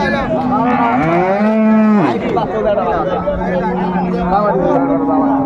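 A cow bellows loudly for about two seconds at a crowded cattle market selling dairy cows and calves in Dinajpur, followed by a lower, drawn-out moo, while people talk and mill about close by.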